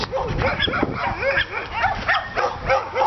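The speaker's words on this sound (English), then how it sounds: "So many doggies." Several dogs on a street bark and yip repeatedly in quick, overlapping bursts, fairly close and steady across the whole stretch.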